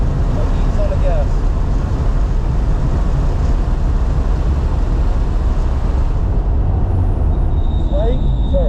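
A 2018 BMW F80 M3 on a race track at NJMP Lightning, its engine a loud continuous in-cabin roar under throttle, with a voice talking over it.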